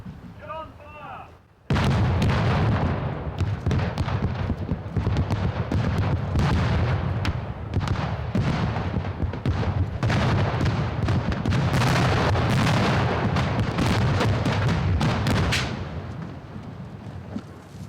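Special-effects explosions on the set of the Bond film Die Another Day: a sudden onset of dense, continuous booms and crackling blasts, loud and rumbling for about fourteen seconds before tapering off.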